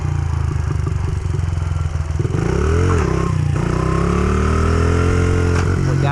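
Motorcycle engine idling loudly up close while the throttle is blipped, pitch rising and falling in short revs over a steady rumble.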